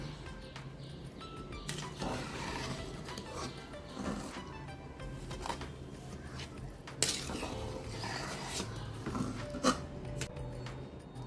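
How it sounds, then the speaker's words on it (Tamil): Grated coconut is stirred into a pot of sweet black kavuni rice, with a spoon scraping and clinking against the metal pot in an uneven rhythm, heard up close with no talking. "தேங்காய் எல்லாத்தையும் போட்டு கிளறி விடணும்"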